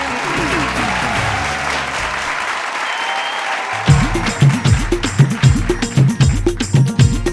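A stage audience at a reality show grand finale breaks into loud, sustained applause, with dense clapping building to sharp rhythmic claps while a voice announces over music.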